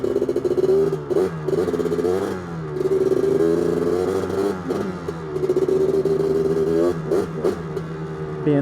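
A 1985 Honda 250R engine revs hard and climbs through the gears, its loud buzzing note rising in pitch, dropping briefly at each shift, then pulling up again, close and continuous.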